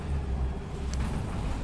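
Masterswitch Streetlite bus driving in the simulator game OMSI 2, a steady low engine rumble that stays continuous and fairly loud throughout, with no talk over it.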